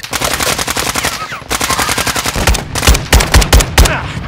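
Rapid automatic gunfire from the PC shooter Warzone 2.0 DMZ mode, loud close bursts of machine-gun fire with heavier punchy shots near the end, no clear talk.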